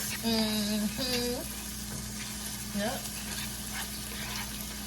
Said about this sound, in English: we want this to get nice and sauteed